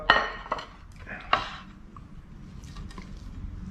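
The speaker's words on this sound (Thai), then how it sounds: "เราก็มาจัดลงจานกันเลยนะครับ" Food being arranged onto a plate: a few bright clinks of utensils against dishes near the start, then quieter handling sounds over a low background.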